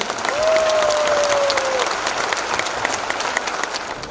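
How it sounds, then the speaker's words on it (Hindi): An audience at a business presentation event in Patna breaks into steady, dense applause from a sizable crowd, with a brief whistle-like tone rising above the clapping early on. "सबके लिए जबरदस्त ताली।"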